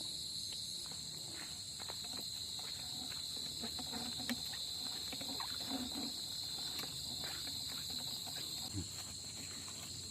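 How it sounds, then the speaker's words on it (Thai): Black crickets chirp in a steady, continuous high-pitched drone in an open bamboo grove outdoors, with faint scattered rustles and footsteps underneath. "ตัวนั้นตัวนั้นจิ้งหรีดดำครับ"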